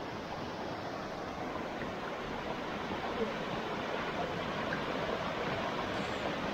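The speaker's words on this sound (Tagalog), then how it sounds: "tunog ng ragasan ng tubig" Rushing water of Tumaniw Falls roars as a dense, even broadband wash, steady and close throughout with no breaks.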